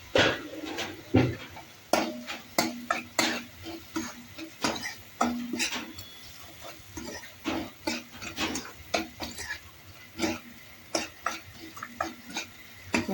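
A spoon stirs and scrapes a spiced vada usal mixture with turmeric and salt in a pan, giving repeated sharp metallic clanks and scraping strokes in an irregular rhythm, with a faint sizzle underneath, close up.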